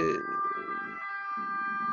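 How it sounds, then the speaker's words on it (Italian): An ambulance siren passes outside with a bright, steady wailing tone that stays faint and distant. Someone speaks briefly at the start. "non so dove stanno andando queste, questa ambulanza"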